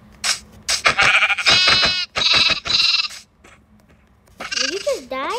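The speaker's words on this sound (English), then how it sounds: "Where's the damn sheep? Ooh. I hear you, sheepy boy." Sheep bleating in Minecraft, several wavering bleats up close between bursts of a person talking over the game, with a final clear bleat near the end.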